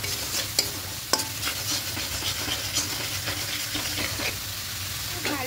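Tilapia fish curry being sautéed with salt in a pan, a continuous frying sizzle and hiss broken by a few sharp scrapes and knocks of a spoon stirring against the pan, close and fairly loud.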